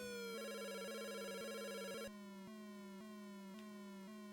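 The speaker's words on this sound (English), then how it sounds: "He was on like an old store phone from the 90s." Electronic chirping ring of an old-style telephone from a Famicom video game, a loud synthetic warbling tone pulsing in even repeated bursts with stepped pitch, alone without voices.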